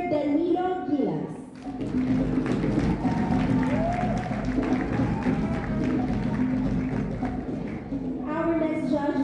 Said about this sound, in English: a round of applause for our next judge, Engineer Danilo Gilas